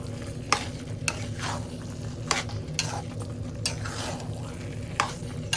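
Taro leaves cooked with a hilsa fish head are stirred in a pan, a steady sizzle of frying running under repeated scraping strokes of a spoon, fairly close and without any talking.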